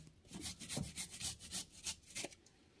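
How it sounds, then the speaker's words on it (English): Fresh ginger scraped across a grater in quick rhythmic strokes, about a dozen rasping swipes close up, steady and unaccompanied by talk. "Grating my ginger."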